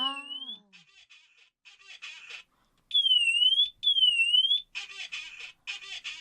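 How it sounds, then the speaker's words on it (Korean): A smoke and fire detector alarm set off with its test button, sounding up close and loud: bright rising and falling electronic sweeps alternate with bursts of rapid pulsed beeping, with brief gaps between them and no talking. "경보음이 울리는 감지기가 있고"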